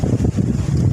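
A repaired electric fan, running again after its thermal fuse was replaced, blows a steady low rush of air close to the microphone, loud and buffeting for a brief moment.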